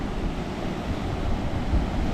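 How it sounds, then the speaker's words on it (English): Steady roar of heavy surf with waves crashing close by on a black lava rock shore at South Point, Hawaii, a continuous wash of water and some wind rumble on the microphone. "Some big waves still crashing"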